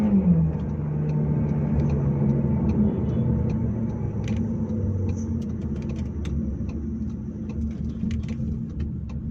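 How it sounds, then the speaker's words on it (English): A Volkswagen Lamando's turbo engine pulls steadily under acceleration, a continuous low rumble with road noise heard from inside the car, with no talking. "once the turbo kicks in, it sinks you in your seat"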